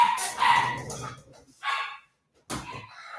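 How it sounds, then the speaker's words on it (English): Dogs bark in a few loud, close bursts, with a short quiet gap between them, and there is no talk underneath. "I don't know what's going on with the dogs over there."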